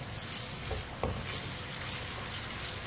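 Potatoes frying over a medium flame in a pan, stirred with a spoon: a dense, continuous close sizzle with a couple of faint scraping strokes, no voices.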